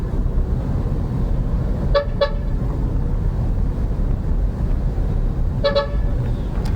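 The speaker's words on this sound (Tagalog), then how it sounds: "Ngayon na yun si Kulukoy sa likod natin, busina ng busina." A bus horn honks repeatedly, two quick toots then another pair, over loud steady engine and road rumble.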